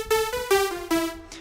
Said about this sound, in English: So you got your classic saw wave.